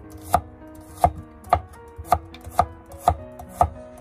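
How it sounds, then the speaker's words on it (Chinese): A knife slices garlic cloves on a cutting board, seven crisp, evenly spaced chops sounding close and distinct against near silence. "先把它切成蒜片，"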